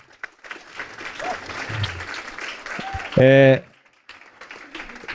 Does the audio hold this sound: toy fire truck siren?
no